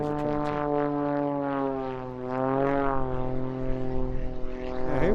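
An aerobatic propeller aircraft with one powerful front engine performs at the Eastbourne International Airshow, a loud, sustained droning buzz whose pitch swells and shifts as the plane manoeuvres overhead, heard alone without talk.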